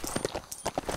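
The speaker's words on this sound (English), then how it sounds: "Get on this horse." A horse in Lego Worlds trots with quick, close, evenly paced clip-clop hoofbeats, about a dozen across the moment, with no voices.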